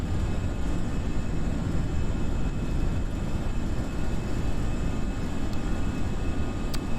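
Airliner in a flight simulator on its takeoff roll and initial climb: a loud, continuous broadband jet-engine roar holding steady throughout, with faint tonal whine and no voices.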